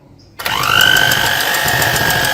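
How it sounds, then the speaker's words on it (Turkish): An electric hand mixer whisks cream for a soft milk dessert, starting abruptly and settling into a steady, loud motor whine with a constant pitch that runs without a break to the end. "Önce yavaş yavaş çırpacağım."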